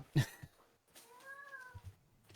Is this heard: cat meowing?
yes